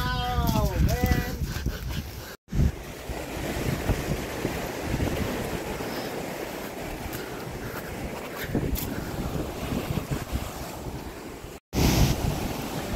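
Strong wind roars against the microphone on a rocky island seashore, with surf washing steadily beneath, loud and continuous apart from two brief cuts.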